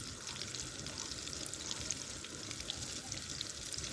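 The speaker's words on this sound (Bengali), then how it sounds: "নিয়ে কুরকুরেতে মিশিয়ে হালকা তেলে ছেড়ে দেব।" Chicken pieces dipped in egg and coated in crushed Kurkure, frying in a shallow layer of oil with a soft continuous sizzle and faint crackles, quiet and close, no talking.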